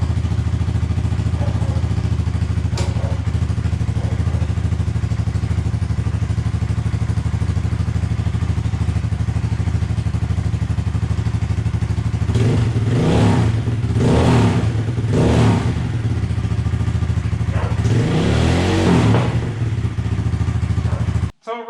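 A Honda Grom motorcycle engine idles with a steady, close, low chug, then is blipped in a series of sharp revs before it cuts off at the end.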